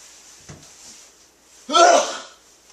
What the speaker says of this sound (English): I don't want to ruin this thing by letting a sneeze stop me